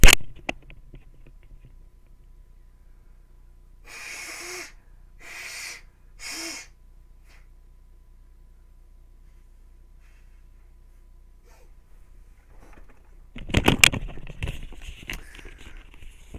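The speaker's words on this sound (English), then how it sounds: "I got to blow my nose." A person blows their nose indoors, with three short, sharp honking blows close to the microphone, then a louder rustling burst of handling and breath noise near the end.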